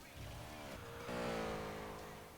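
Game car speeding along at high revs, a steady engine drone that swells louder midway as it accelerates, with a voice talking over it.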